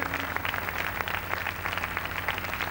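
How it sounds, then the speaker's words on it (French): Steady, dense audience applause at a televised New Year's Day carnival show, continuous and moderately distant, with no talking over it. "Voilà, applaudissez-les encore."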